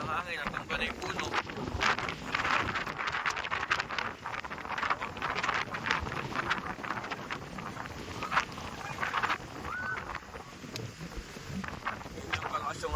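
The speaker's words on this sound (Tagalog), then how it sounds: "Yun yung kalakas yung hangin ngayon." Strong wind roars and buffets the microphone in gusts, with people talking over the rushing noise.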